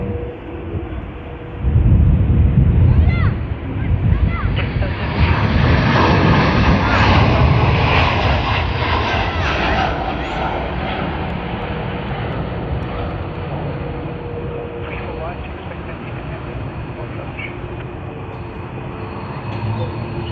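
A China Eastern airliner, flight MU562 bound from Sydney to Shanghai, roars at Sydney Airport, a loud broadband engine rush swelling after a couple of seconds and then holding steady as it slowly fades.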